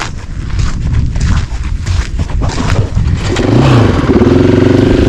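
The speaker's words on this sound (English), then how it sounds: "We're gonna hop on our bikes and head over that ridge" Motorbikes setting off on a backcountry ridge trail, engines loud and close, rumbling and then revving up steadily toward the end with no voices.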